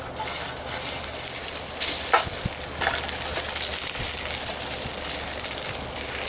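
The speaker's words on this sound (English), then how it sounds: "We want to sear off our vegetables." Vegetables and onions sear in a pot over a camp cooking fire, a steady broadband sizzle and crackle with occasional stirring scrapes, close and continuous with no talk.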